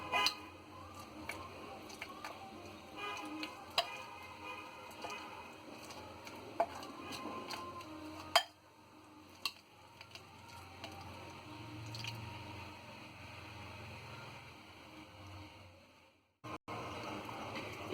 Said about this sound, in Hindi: ये कुटा हुआ गोल मटन मिला देंगे। इस तरीके से मसाले में मैरिनेट कर देंगे।